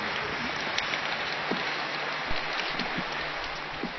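Steady rain pours down onto a school board outdoors, making a dense, continuous hiss with scattered louder drop hits throughout.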